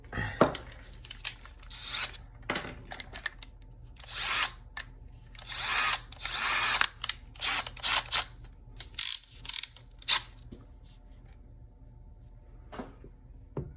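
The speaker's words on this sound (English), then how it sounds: "So what we'll do is we'll just drill a hole there." A cordless drill with a big bit whirs in repeated bursts, revving up and stopping as it bites into a wall next to a switch, loud and close, with brief pauses between runs.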